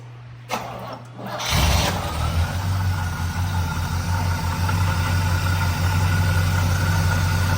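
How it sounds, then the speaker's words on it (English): A cold 1973 Pontiac LeMans Sport Coupe cranks briefly and fires up after a quiet moment, then settles into a steady, loud, close idle. "I'm gonna have my trusty helper crank it up. Start her up, sir."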